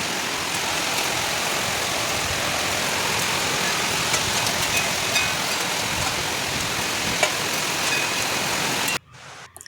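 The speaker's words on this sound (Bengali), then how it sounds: "আজকে আবার ভীষণ বৃষ্টি শুরু হয়ে গেছে।" Heavy rain pours down steadily in a dense, loud wash of noise with no pauses, cutting off abruptly near the end.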